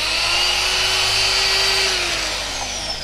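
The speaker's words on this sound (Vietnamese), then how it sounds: "Chức năng thứ nhất khoan thường." A Japanese domestic-market handheld power drill runs steadily in normal drilling mode, a loud continuous whine that holds pitch before tapering slightly near the end, with no voices.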